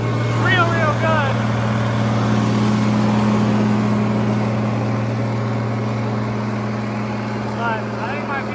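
A tractor engine running steadily under load on a dyno, a loud continuous drone with a turbo whine, while someone talks over it.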